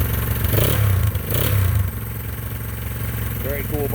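A motorcycle engine rumbles steadily at idle in a collection of vintage Kawasaki and Honda bikes, a low loud throb with a louder surge early on, while people talk over it.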